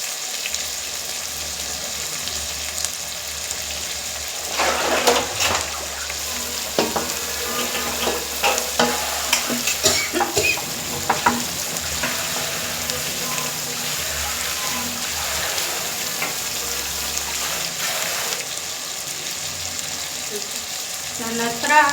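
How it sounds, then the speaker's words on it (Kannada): Tomatoes frying and being stirred in a pan for gongura mutton fry: a continuous close sizzle broken by bursts of scraping and clattering from the spoon, with occasional faint voices and running water in the background. "ಟೊಮೆಟೊನು ಸ್ವಲ್ಪ ಫ್ರೈ ಆಗಲಿ."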